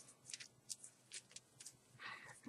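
Soft, quick rustles and flicks of tarot cards being shuffled, close and quiet, in short irregular bursts.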